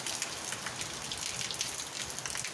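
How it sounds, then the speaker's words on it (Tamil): Moderate rain falls steadily for a long spell, with a dense, even patter of drops on surfaces nearby and no voices. "ஒரு 10 நிமிஷமாக ஒரு மிதமான மழையாக பெஞ்சுது"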